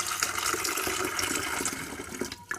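Steady splashing and gurgling of water poured into a kettle for descaling, near and continuous, with a slight change in tone toward the end.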